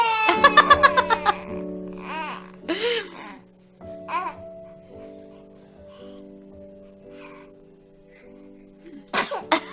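A baby gives a short run of quick sneezes at the start and one more near the end, with an adult's soft talk and steady tones from nearby in the background.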